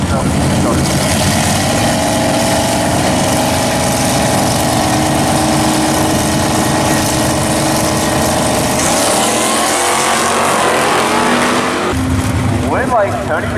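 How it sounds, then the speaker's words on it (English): Hot rod Camaro and Nova muscle cars launch and roar down a drag strip, loud sustained engine noise with a rising pitch change partway through, under an announcer's voice. "Tony Matera, 667 here, tower side of Camaro, taking on the Nova"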